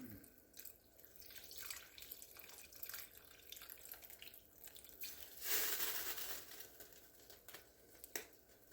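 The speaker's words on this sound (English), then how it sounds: "We are going to take 4 cups of chicken stock. Go ahead and pour that in there." Chicken stock is poured from a container into a cooking pot, a soft steady liquid splash and trickle heard close, with a brief louder gush partway through.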